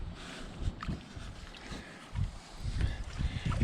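Paddle strokes push a small boat across a cattle pasture pond, giving soft irregular splashes and knocks at close range over a low, breezy background.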